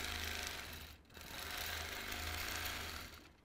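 A sewing machine runs steadily and fairly close, freehand quilting an orange peel pattern, with one brief dip in the middle and no talking.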